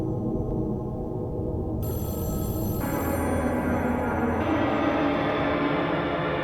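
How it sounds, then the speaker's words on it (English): A telephone rings inside the horror video game Mothered, a steady electronic tone that sounds continuously and evenly at moderate volume, with no voices over it. "Oh, it's ringing. It's ringing somewhere else."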